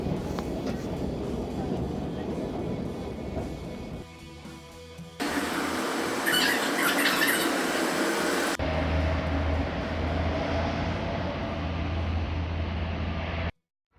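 A train pulling into Kushiro, Hokkaido, after a run through the Kushiro wetlands, heard from on board as a steady rumble with shifts in tone, a brighter rattling stretch midway, and a low hum that cuts off at the end.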